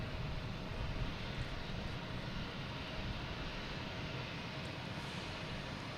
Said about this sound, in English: Have another private jet taken off.